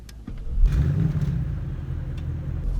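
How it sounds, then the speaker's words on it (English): Bentley Continental GT V8 S twin-turbo V8 starting with a sharp catch, then settling into a deep, rumbling idle that stays steady and close. "Let's see what this twin turbo beast sounds like."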